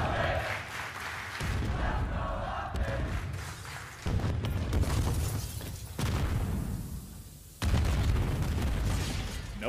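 Booms and bursts from utility and grenades in a Major III tournament shooter esports match sound in several loud clusters across the map, with abrupt shifts between dense volleys.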